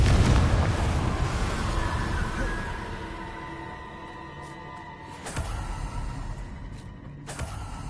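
The Confringo explosive spell going off in a Harry Potter video game on PS4, with a heavy boom that fades into a rumbling tail, then two sharper blasts later on, one near the middle and one near the end.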